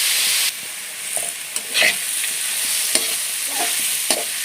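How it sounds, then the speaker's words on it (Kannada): Grated carrots frying in an oil-coated pan for carrot chitranna, a loud, close sizzle with scattered stirring scrapes and spatula taps against the pan, continuous, with no speech. "ನೋಡಿ ಈ ರೀತಿ ಫ್ರೈ ಮಾಡ್ಕೋಬೇಕು ಜಾಸ್ತಿ ಫ್ರೈ ಮಾಡೋದು ಬೇಡ ಒಂದು ಸ್ವಲ್ಪ ಬಾಡಿಸ್ಕೊಂಡ್ರೆ ಸಾಕು"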